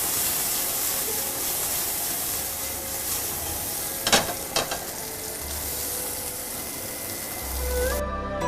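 Chicken frying in a pan with bell pepper and shiitake mushrooms, set over low heat while noodles boil, for a Japanese-style dish. A steady, close sizzle and hiss runs throughout, broken by a couple of brief stirring clinks near the middle. No one speaks.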